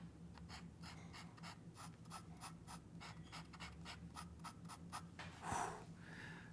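A Nakaya fountain pen with a platinum nib writes on paper, giving a quiet, rhythmic run of short scratchy strokes close up against a low background hum, with a brief louder scuff near the end.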